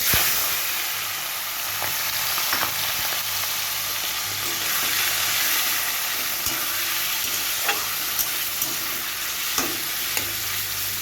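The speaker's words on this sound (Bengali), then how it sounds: "এবার আমি চিংড়ি মাছগুলোকে ভেজে নেব আমি এখানে সব চিংড়ি মাছগুলো দিয়ে দেবো" Prawns sizzle and fry in hot oil in a pan for a Bengali prawn curry, a steady loud crackling hiss with occasional stirring clicks throughout.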